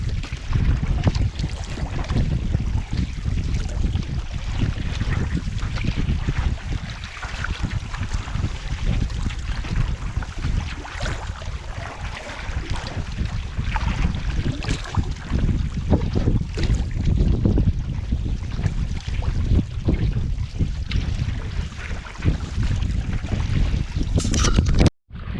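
Steady wind blowing across a lake during a canoe trip, a constant rushing gust noise buffeting the microphone throughout with slight swells in strength and no talking.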